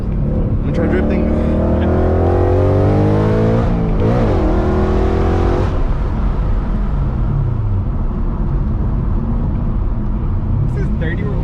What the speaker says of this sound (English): I'm gonna try drifting.